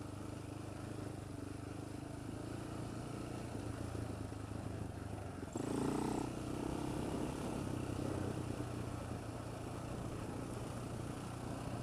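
A Polaris Outlaw 525 ATV engine runs roughly, holding a steady low drone with a short louder surge partway through and no talk.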